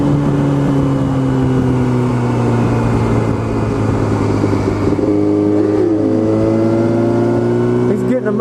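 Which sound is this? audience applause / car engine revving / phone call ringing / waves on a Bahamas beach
car engine revving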